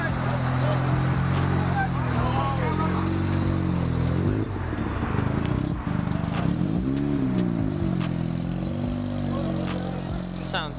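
A Mazda RX7 at a car meet, its engine a steady loud drone that rises and falls in pitch with revving, with other vehicle noise nearby and people talking over it.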